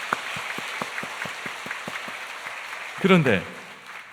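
Church congregation applause, a sparse run of distinct hand claps in a steady rhythm, followed by a voice speaking briefly.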